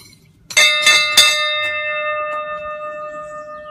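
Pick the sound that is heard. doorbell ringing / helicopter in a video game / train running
doorbell ringing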